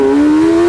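The 1441cc Kawasaki motorcycle engine mounted behind the seats of a 2025 T-Rex RR revs up high, a brief, loud, piercing tonal wail held close by, then cutting off abruptly.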